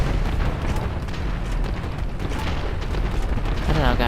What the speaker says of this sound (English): it's kind of cool being able to fly and drop bombs and everything